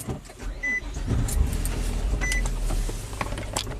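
Nissan car engine with a misfire under load, running steadily at close range with a low rumble, a few clicks and short tonal whines layered over the idle, no talking.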